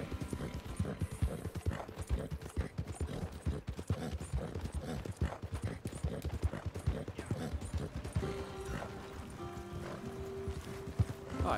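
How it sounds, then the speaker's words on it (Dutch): Horse in Red Dead Redemption 2 galloping with steady rapid hoofbeats throughout, a faint whinny and soft talk mixed in near the end. "paardje kan wat sprinten"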